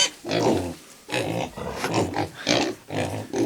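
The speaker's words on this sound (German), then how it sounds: "Und ein paar Ferkel und eine Sau gibt's auch." Pigs on a farm, a sow with piglets, grunt and oink in a string of close, loud bursts with short gaps between them.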